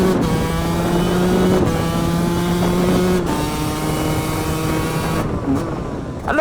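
A small motorcycle rides past at a steady cruise, its engine humming loudly with a sustained droning tone that shifts pitch slightly as it changes speed, close to the listener and without any talk.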